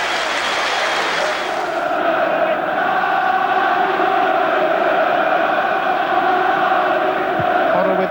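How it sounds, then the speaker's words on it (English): A football stadium crowd applauds a Tottenham goal by Hoddle with a broad, steady roar of clapping and crowd noise that fills the whole stretch from start to end. "he gets applause from his manager on the bench and from the Tottenham fans as well"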